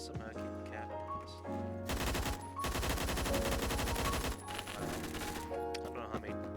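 Video game gunfire in a 5v5 online shooter: dense, loud bursts of rapid automatic fire that hammer on for a couple of seconds, set among game sounds and music tones.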